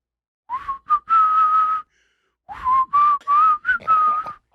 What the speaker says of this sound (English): That's a good whistle.